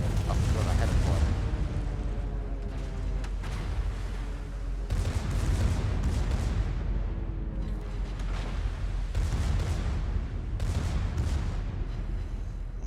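Naval secondary guns firing in a warship video game, repeated loud booming shots at irregular intervals over a rumbling battle background, with someone talking over much of it.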